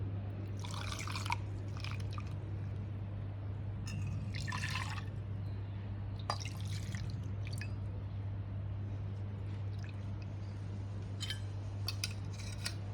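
Water trickles and splashes into a mixer jar over ground kokum paste for kokum kadhi. Short wet pours and drips come through clearly against a steady low hum, with no talking.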